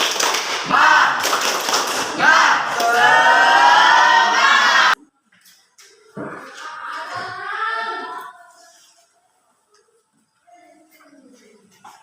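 Schoolchildren in a classroom chanting and clapping the tepuk semangat spirit clap, loud rhythmic taps mixed with voices for about five seconds, then cutting off to quieter speech.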